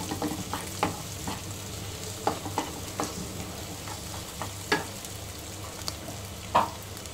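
Dried red chillies frying in a pan for a mutton dish, a steady close sizzle broken by sharp clicks and knocks of stirring.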